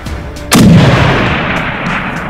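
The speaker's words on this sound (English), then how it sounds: "Shoot him again right there." A single loud rifle shot fired at a blue wildebeest on an African hunting safari, a sharp blast at about half a second followed by a long rolling echo that fades slowly.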